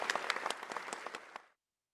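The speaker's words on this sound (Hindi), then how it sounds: "उसकी एक्टिंग इतनी असली थी कि ऑडियंस तालियां बजाती रह गई।" A theatre audience applauding an actor's stage performance: many hands clapping in a dense, lively patter that stops abruptly after about a second and a half, followed by silence.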